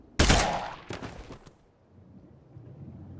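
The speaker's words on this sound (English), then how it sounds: "I shot the bloater in the head" Gunshots, probably from a shotgun, in the zombie video game State of Decay 2: one loud, close blast with a long booming tail, then two or three quicker, lighter shots, fading into a quiet low rumble.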